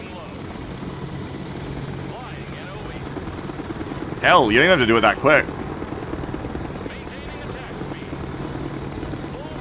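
A helicopter flies in the Broken Arrow video game, its steady rotor and engine drone running throughout while someone talks over it in a brief burst near the middle.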